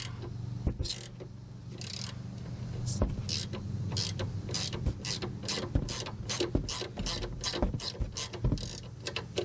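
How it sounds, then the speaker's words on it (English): A ratcheting wrench fitted with a 5mm hex key loosens a sway bar link on a Toyota Highlander or Lexus RX330, making steady rapid clicking ratchet strokes up close, with rhythmic bursts and no talk. "take our ratcheting wrench, put our 5mm hex key in there, then we'll slowly ratchet this off."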